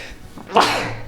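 A single sharp human sneeze bursts out close by with a quick intake before it, during a tabletop role-playing game session, then trails off into quiet room noise.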